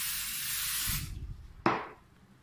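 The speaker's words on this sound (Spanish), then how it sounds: "Lo primero que vamos a hacer es echarle el spray," A can of spray glue hisses steadily onto polyester batting for a baby's travel changing pad, a loud, close burst lasting about a second, followed by a rubbing rustle and a sharp knock.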